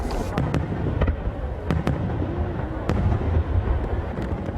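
Fireworks explode at a summer display in Japan, a continuous crackling rumble broken by several sharp booming bursts at irregular intervals, loud and fairly close, with no voices.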